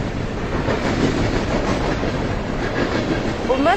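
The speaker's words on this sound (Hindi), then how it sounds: "भारत की पहली रेलगाड़ी ठाणे तक के 35 किलोमीटर के सफर पर गरजती दहाड़ती निकल पड़ी थी।" A steam train rumbles steadily along the rails with rhythmic clacking and a brief metallic squeal near the end, loud and close.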